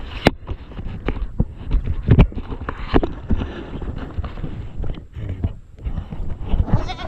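Goats bleat outdoors on a farm in the afternoon, with intermittent calls over scattered hoof clops and rustling, at moderate distance and with no clear talking.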